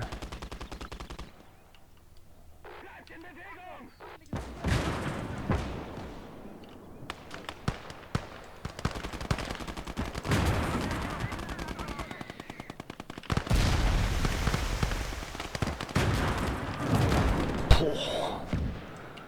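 Rapid gunfire in the video game Conquest Enhanced, bursts of machine-gun and rifle shots rattling continuously, loud and dense, with a short quieter stretch early on and heavy volleys later.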